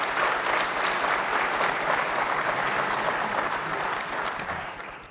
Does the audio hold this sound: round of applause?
yes